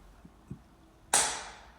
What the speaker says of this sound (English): That light switch on sounded like explosion.